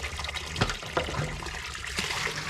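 Cold spring water trickles and splashes as it is fetched from a natural spring, a close, uneven dribble with a few brighter plops.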